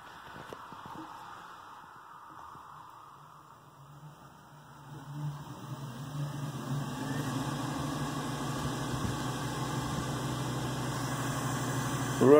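A Laguna Revo 1216 wood lathe running on its high setting, a smooth steady motor hum that swells partway through and then holds even, close and fairly quiet with no talk.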